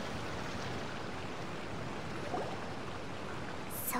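A waterfall in Genshin Impact pours continuously, a dense, even rushing hiss of falling water that holds steady throughout, with a faint chime-like blip near the end.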